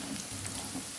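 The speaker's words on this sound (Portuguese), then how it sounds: "estamos fritando aqui as mandioca" Cassava pieces fry in a pan of hot oil until golden and crisp, giving a steady, close, dense sizzle and crackle that fills the whole second with no talking.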